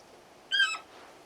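A large bird mount in the fantasy game Final Fantasy XVI gives a single short, bright squawking call, close and clear over a faint background.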